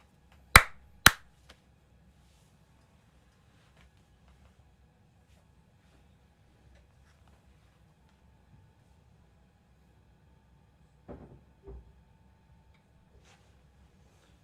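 Two sharp, loud hand claps in quick succession open an otherwise near-silent stretch, and a fainter pair of claps comes much later.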